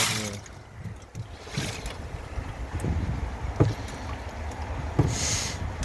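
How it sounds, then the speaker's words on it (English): Splashy, irregular sloshing and dripping as a tight-fitting grid is pulled up out of a garden pond, with scattered sharp water knocks and trickles over a windy, close outdoor background. "Let's just pull this grid up now."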